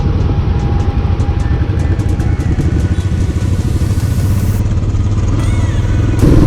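Royal Enfield Bullet Classic motorcycle riding on a long route, its engine thumping loud and steady throughout with a low rumbling pulse and wind noise, no talking.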